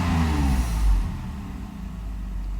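A Mercedes 600SL engine, flooded with excess fuel, revs loudly and close by in a rough, surging burst that eases after about a second into a steady, lower running drone.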